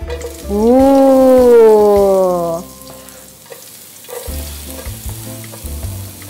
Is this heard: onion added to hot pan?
yes